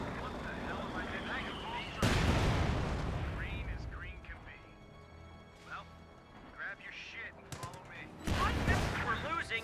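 Explosive artillery and gunfire blasts from a Company of Heroes 2 match, loud booming bursts at the start and again near the end, with lighter battle noise between and someone commentating over it.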